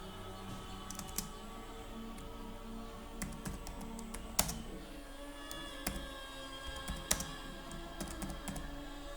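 Keys click at a steady, irregular pace as a name is typed on a computer keyboard for a university application, quiet and close with no talking.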